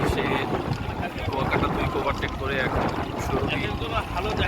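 Passenger river launches, including the Adventure-9, race along a river near the Charmonai Mahfil 2025 gathering, with a constant engine rumble, rushing water and heavy wind buffeting under indistinct voices.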